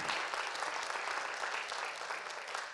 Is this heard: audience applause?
yes